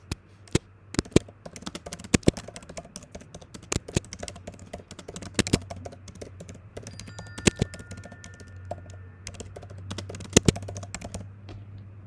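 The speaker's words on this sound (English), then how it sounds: "So let's quickly type it out in English here." Typing on a computer keyboard, a run of close, irregular key clicks and taps with a few sharper strokes, alone without speech.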